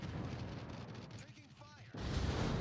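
Naval gunfire booms from the World of Warships video game, with a rumbling blast at the end, under game voice callouts and soft commentary.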